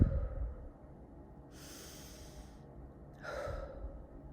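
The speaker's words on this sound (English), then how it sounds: "Let's take a few deep breaths before we get started." Two slow, deep breaths are drawn in and let out, airy and close, separated by a quiet pause, with no talking.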